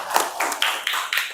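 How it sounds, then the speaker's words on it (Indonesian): A classroom of pupils claps together in a short run of sharp, evenly spaced bursts, close and fairly loud with no talking. "tepuk tangan untuk kita semuanya"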